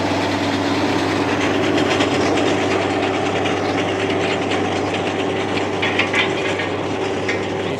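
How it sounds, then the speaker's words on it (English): A square baler runs in a harvest field, a loud steady mechanical drone with rhythmic clacking and rattling from the pickup and plunger, close by, with no talking. "I'm going to move the baler, square baler."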